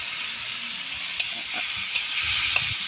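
Chicken adobo, including heads, innards and feet, sizzles and hisses steadily in a hot pan, a constant bright crackle with occasional faint clinks and low knocks underneath.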